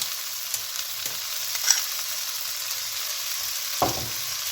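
Tomatoes sauté in a pan for a squid curry with a faint, steady sizzle and a few soft stirring scrapes, close and without any voices.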